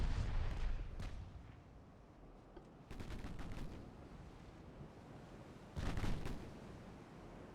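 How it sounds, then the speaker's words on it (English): Secondary guns on pre-dreadnought battleships fire in Ultimate Admiral: Dreadnoughts, sharp booming salvos arriving in clustered bursts around one, three and six seconds, each followed by a rumbling decay. "Secondary guns on my pre-dreadnoughts still being very, very useful."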